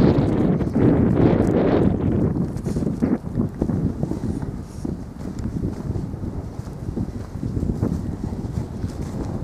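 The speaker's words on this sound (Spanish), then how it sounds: "Estamos con un día ventoso," Strong gusts of wind on a windy day buffet the microphone outdoors where a horse is being shown, making a loud continuous rumbling roar that swells and eases, with no talk.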